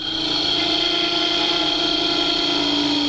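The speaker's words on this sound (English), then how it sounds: "we're going to start turning away the brass on this" A metal lathe turns brass with a carbide tool while making a brass ball-bearing spinning top, producing a steady, close whine with a high cutting tone and continuous motor hum, with no voices.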